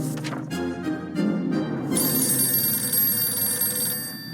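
A telephone rings in the video game 60 Seconds!, its bright electronic trill repeating in bursts before settling into a steady, sustained ring with no talking.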